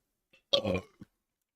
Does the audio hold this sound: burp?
yes